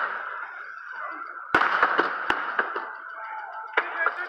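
Fireworks burst over Savin Rock, a steady crackling hiss punctuated by several sharp loud bangs in quick succession, with more pops and crackles continuing near and far.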